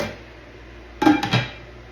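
A lid set onto a pot of oatmeal soup gives a quick metallic clatter, two or three close clinks in a row after a quiet stretch.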